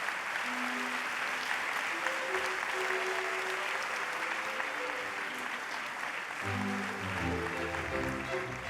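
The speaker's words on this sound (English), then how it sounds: "A warm applause for the last 6 winners in category Conservation." Sustained audience applause at the 2016 European Heritage Awards ceremony in Madrid, a dense, steady wash of clapping filling the hall, with faint musical tones surfacing underneath toward the end.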